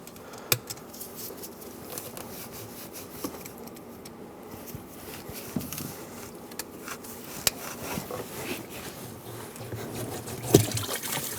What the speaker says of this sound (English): Just let that drain into the collection bucket.